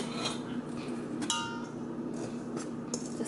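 A spoon clinks and scrapes against a bowl while active dry yeast and other bread ingredients are stirred together, a quick run of close, light knocks over a soft steady hiss.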